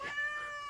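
A cat gives a single drawn-out meow, clear and fairly close, with a bright whining tone that holds for under a second.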